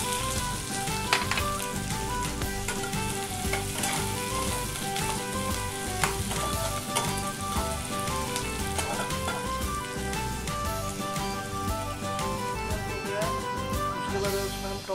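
Onions fry in hot mustard oil with a dense, steady crackling sizzle that stays loud and even throughout, and no voices are heard.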